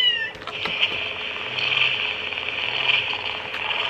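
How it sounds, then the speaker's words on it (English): Toy cat that purrs when tickled, a continuous buzzing purr-like whir with two low pulsing swells, close and fairly loud, no talking. "the whole thing purrs like crazy"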